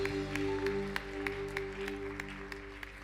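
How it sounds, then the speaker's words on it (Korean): A church youth worship congregation gives a brief round of applause, scattered claps sounding faint and distant over a steady low hum. "주님 앞에 감사와 영광의 박수를 올려드립시다."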